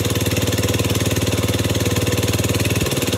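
The small engine on a homemade firewood log splitter idles right after a carburetor rebuild, a loud, close, rapid, even chugging pulse that holds steady with a brief stumble near the end.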